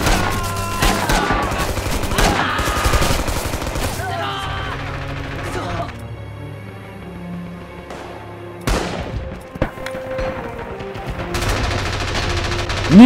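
Gunfire in the video game Rising Storm: dense bursts of rifle and machine-gun shots crackle close and loud, then thin out to scattered single shots and a final sharp burst, with shouting voices mixed in.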